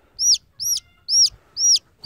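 A chick with a blocked vent peeps while being handled and examined, four clear, evenly spaced high chirps close by with a little handling noise between them.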